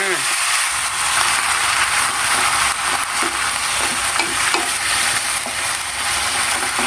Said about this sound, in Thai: คนให้หมูสุกก่อนนะคะ